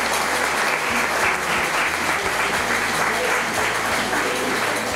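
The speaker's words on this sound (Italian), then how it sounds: "Ti facciamo un bel applauso, dai!" A studio audience at a cooking competition show claps steadily in dense, continuous applause, loud and sustained for the whole stretch.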